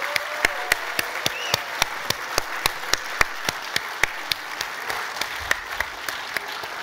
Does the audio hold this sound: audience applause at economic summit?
yes